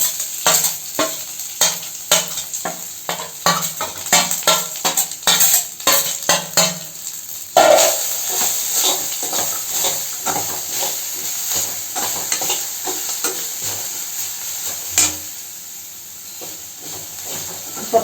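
Grated coconut and grapes sizzling in a hot pan while being stirred, with rapid scraping strokes and a steady frying hiss, louder and choppier at first, then a more continuous sizzle.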